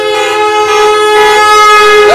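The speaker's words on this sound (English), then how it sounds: "More honking." Car horns blare at a street rally for Azov captives, a loud sustained honk holding steady for the whole stretch, with another horn rising near the end and busy street noise underneath.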